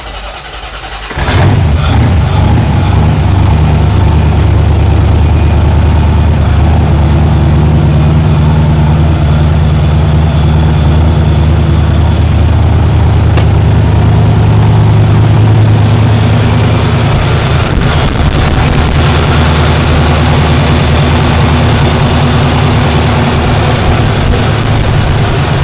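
A 1967 Corvette with side exhaust turns over and fires up, then settles into a loud, steady, rumbling idle that runs on for over twenty seconds, close up and without talk.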